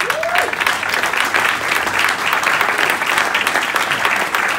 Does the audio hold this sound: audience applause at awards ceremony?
yes